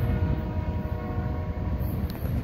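Union Pacific Bakersfield local freight train passing California Avenue and Cherry Street in Fresno: a steady low rumble of rolling cars nearby, with a brief higher tone near the end and no talk.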